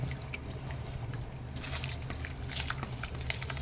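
Four tumblers of soaked rice are poured into a pot of boiling water, giving a wet, splashing pour with bubbling beneath and scattered small crackles and drips, close and moderately loud.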